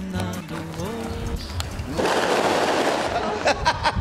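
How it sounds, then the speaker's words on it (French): Firecrackers go off during a street celebration in Brazil, a dense burst of sharp crackling pops that starts midway and keeps going loud, with a few stronger bangs near the end, over an earlier stretch of background voices and street noise. "Peut-être ici on fête beaucoup avec les pétards."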